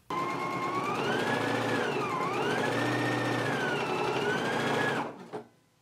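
A sewing machine stitches a 5/8-inch seam on a McCall's 7922 garment in one continuous whirring run with a wavering motor pitch, close and clear, then stops abruptly just before the end.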